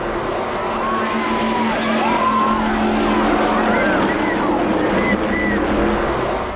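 Sportsman class race cars roar around a track in a loud, continuous engine drone, with pitch sweeps as cars pass and a voice talking over the noise.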